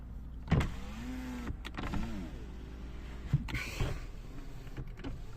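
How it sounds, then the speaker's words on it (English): Electric windows on a Lexus GS250 whirring up and down in several separate motor runs, each a rising or falling hum with clicks and thumps where the glass stops, close inside the car with no talking. "all electric windows work"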